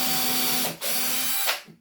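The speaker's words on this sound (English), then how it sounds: "drill some holes into this side here for the screws to go into the wall" Power drill boring screw holes into the side of a wooden shelf: two close, loud bursts of whining motor, the first cut briefly short before the second runs on and then winds down.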